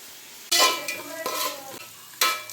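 Onions frying in a pan for an aloo palya, with a steady sizzle broken by two loud bursts of stirring and scraping, close up, no voices.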